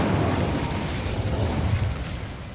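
Incendio fire spell from Hogwarts Legacy on PC, a dense roaring whoosh of flame with low rumbling bursts, steady and fairly loud throughout, fading slightly toward the end, no voices.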